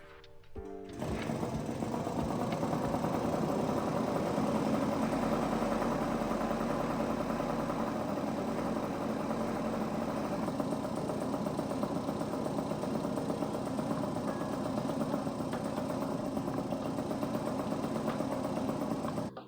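A Puch Magnum 50cc moped engine idles steadily with a fast, even putter, close and constant for the whole stretch after a brief start.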